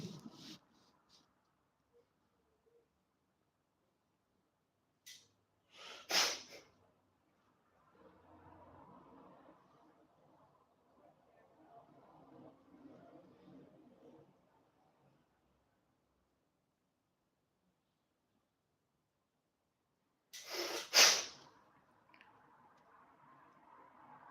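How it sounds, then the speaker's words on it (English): Two short, sharp bursts of nose blowing about fifteen seconds apart, with quiet rustling and faint background murmur between them. "My ears pop when I blow my nose."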